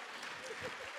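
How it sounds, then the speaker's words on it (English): Workshop audience applauding at a leadership body-language event, a short burst of steady clapping across the whole moment with some voices mixed in. "Give her a round of applause."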